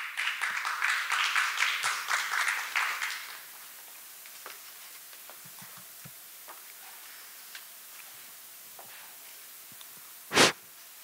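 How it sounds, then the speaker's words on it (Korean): An audience at an academic martial-arts seminar applauds to welcome a speaker: a few seconds of dense, fairly loud clapping that fades out into a quiet room with scattered small knocks and one sharp thud near the end. "큰 박수로 맞이해 주시기 바랍니다"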